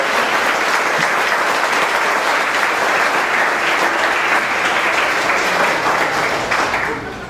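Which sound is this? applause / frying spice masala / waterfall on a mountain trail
applause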